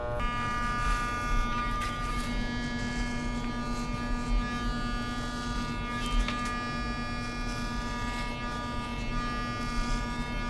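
Electric hair clippers lightly trim curly hair during a temple fade, a steady close buzzing hum that runs unbroken for about ten seconds with only slight changes in tone and no talking.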